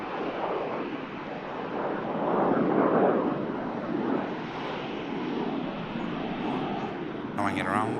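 A business jet taking off at Manchester Airport gives a broad, rushing engine roar that swells toward the middle and then holds steady, heard from a moderate distance with wind buffeting the microphone.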